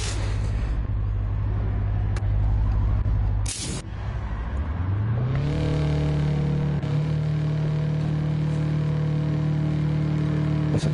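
A Subaru WRX race car engine in Gran Turismo 7 at Watkins Glen drones loudly and steadily, then cuts briefly and rises in pitch as it accelerates before settling into a sustained high-revving tone.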